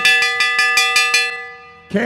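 A lap bell rings rapidly at a racing event, with about seven bright clangs in an even rhythm that fade out, followed by a burst of crowd or commentary noise.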